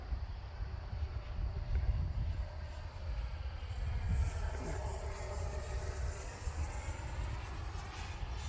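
A Xfly T-7A Red Hawk RC jet flies on a windy day, its steady whooshing turbine roar mixed with gusty wind noise, continuous and moderately distant with no talk.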